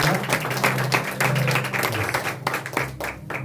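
Steady applause from a crowd, many hands clapping continuously with a dense, rapid rhythm, with some voices mixed in.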